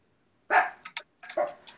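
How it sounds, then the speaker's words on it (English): Dogs barking outdoors: three or four sharp barks in two short clusters, moderately close, with silence between them. "Hey, dogs, can you stop barking for a couple minutes?"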